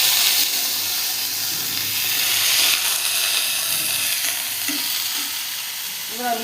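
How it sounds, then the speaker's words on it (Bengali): Chopped potatoes frying in a hot pan for a Bengali potato curry, a continuous close sizzle with faint spatula stirring, no voices over it. "একটু ভাজা ভাজা করে নেবো।"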